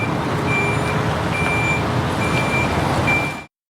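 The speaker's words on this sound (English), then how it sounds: "Truck." Truck reversing beeps from the audio game Blindfold Runner: a steady, loud high-pitched beeping tone over a rumbling truck engine, continuous for a few seconds before cutting off abruptly.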